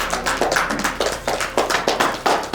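Applause fills an award ceremony hall as a crowd claps in a quick, fairly loud, rhythmic patter, each burst rising and fading in regular waves with no voices.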